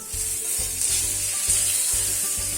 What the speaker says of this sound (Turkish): şu anda bir miktar pişirdim balığımı ve güzelce siz de gördüğünüz gibi altı güzelce kızardıktan sonra şöyle çevireceğim